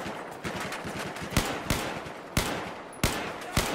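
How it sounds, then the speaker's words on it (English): Gunfire in a military shooter game, a series of loud individual shots spaced about a second apart, with quicker faint pops and a continuous roar of battle noise beneath. "Taking fire from my left."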